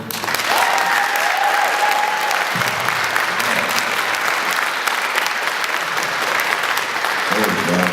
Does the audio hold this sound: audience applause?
yes